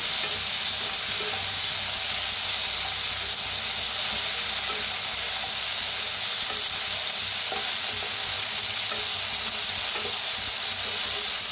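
Spiced brinjal roasting in a pan gives off a steady, loud, continuous sizzle and hiss with no talking, holding even throughout.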